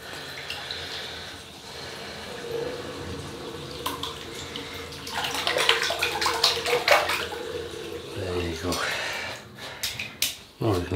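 Water pours and splashes as a shaving soap container is tipped out, gushing in bursts with a voice speaking over it.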